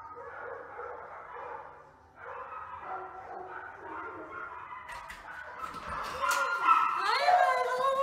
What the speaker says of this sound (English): Are you a little psycho puppy?